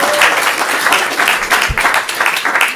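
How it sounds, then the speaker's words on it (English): A stand-up comedy showcase crowd claps in a loud, sustained round of applause, with a sharp thump partway through and no talk on top. "Give her a round of applause."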